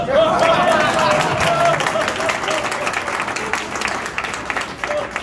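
A fundraiser crowd gives a loud, sustained round of applause for a Trump impersonator, with dense clapping mixed with murmuring and voices throughout.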